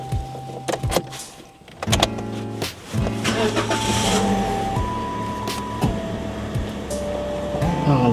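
A parked car runs to cool down: a steady engine hum fills the background while electronic beeps, chimes and short power-window motor whirs come and go up close, with no talk.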